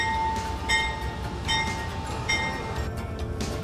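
Train beginning to move off, with a steady low rumble of wheels and cars, faint metallic clinks and a thin high tonal whine, moderately close and continuous, with no voices.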